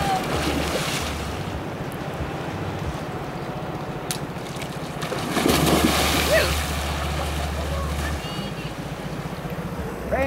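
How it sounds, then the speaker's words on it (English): A dinghy ride on the ocean off Nuku Hiva in the Marquesas brings a steady wash of wind and water with an outboard engine droning underneath, as people chat over the noise. "do not fall off the dinghy here in Nuku Hiva"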